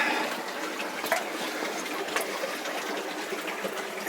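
Water sloshing in a cold, flooded mine adit, a continuous close rush and churn of disturbed water with no voices.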